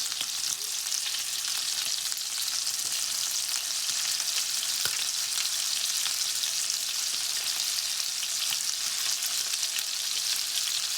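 Scallops sear in a hot pan with a steady, dense sizzle that holds evenly throughout, close and fairly loud, with a single faint tap partway through and no voices.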